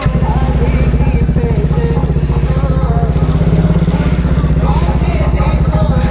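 A motorcycle fitted with an aftermarket exhaust and a dB killer runs with a loud, close, steady pulsing thump, its engine drone continuous throughout beneath a man's speech.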